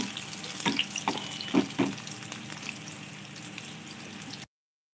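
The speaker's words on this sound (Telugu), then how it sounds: "ఆయిల్ హీట్ అయిన తర్వాత అందులోకి నాలుగు లేదా ఐదు వెల్లుల్లిపాయ రెబ్బల్ని కొంచెం దంచుకొని వేసుకోవాలి" Four or five lightly crushed garlic cloves drop into hot oil and fry with a soft, steady sizzle, with a few brief clinks and stirs near the start.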